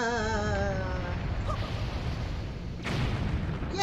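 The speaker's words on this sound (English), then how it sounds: "Now that we've blown up the rock" An in-game explosion in Zelda: The Wind Waker blasts a rock apart, one booming burst after a held tone that dies away, with a second bright burst near the end.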